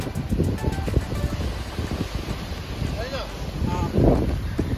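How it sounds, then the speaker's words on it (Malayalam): Strong gusty wind buffets an open hilltop with wind turbines in Idukki. It roars and rumbles against the microphone in uneven surges, with people talking faintly underneath. "കിടിലം കാറ്റ്, കിടിലം കാറ്റ്"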